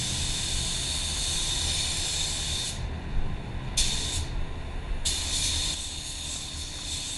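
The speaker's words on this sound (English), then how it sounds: "My gun is spraying at 18 psi" A Tekna Pro Light paint spray gun with a 1.3 tip, at 18 psi, sprays white car paint in long, steady hissing bursts, cutting off briefly and restarting several times, close and fairly loud.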